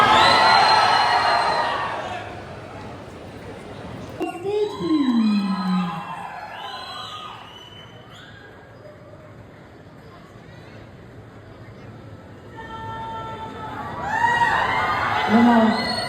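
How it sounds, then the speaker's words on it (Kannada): Audience at a film trailer launch event cheering and clapping, loudest at the start and again near the end, with crowd babble and whoops in between. "ದಯವಿಟ್ಟು ಜೋರಾದ ಚಪ್ಪಾಳೆ ಬರಬೇಕು."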